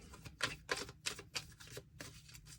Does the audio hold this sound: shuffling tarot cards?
yes